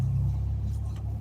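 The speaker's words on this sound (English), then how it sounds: "But my truck does have a wild sound if you punch it." A truck engine gives a low, steady rumble up close, a deep continuous drone that holds for a moment.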